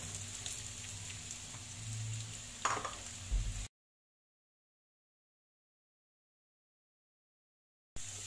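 Onions sizzle in a pan after garlic, a soft steady crackle with a few stirring clatters, then a long stretch of silence before the frying resumes faintly.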